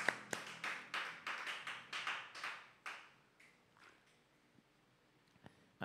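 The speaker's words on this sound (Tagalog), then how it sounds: "Palakpakan natin ang Panginoon" A church congregation clapping together in rhythmic bursts of quick claps for about three seconds, then fading into a few scattered claps and quiet.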